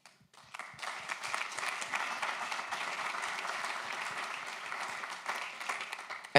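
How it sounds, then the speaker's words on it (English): Conference audience giving a round of applause, many hands clapping in a sustained, even burst that builds quickly and holds for several seconds before tapering off. "So a round of applause for you, I would say"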